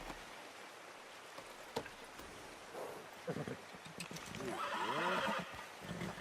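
A horse in Red Dead Redemption 2 whinnies loudly in a long, wavering neigh near the end, after a few soft snorts, over a steady outdoor ambience with light rain-like hiss.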